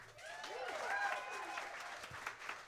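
A theatre audience at a new musical theatre showcase applauds the writers with a brief, moderately loud round of clapping, while bright sung or whistled tones weave over the claps.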